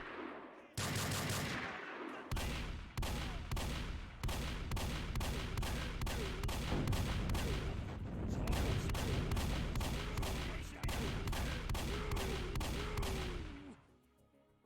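Rapid bursts of gunfire ring out while shooting shielded enemies in a Doom mod, loud and near, with repeated machine-gun-like volleys separated by brief pauses.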